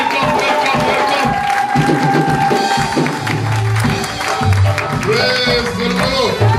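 Church congregation acclaiming the Lord, a loud, sustained wash of crowd cheering and shouting with clapping mixed in, close and continuous, with voices and music running underneath.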